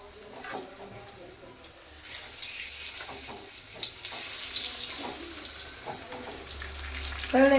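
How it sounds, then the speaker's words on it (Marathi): Bread pakoras frying one by one in hot oil in a home kitchen, a steady bubbling sizzle with wet crackles and soft clatters, fairly close, with a brief louder burst near the end. "असे तळतात बघ"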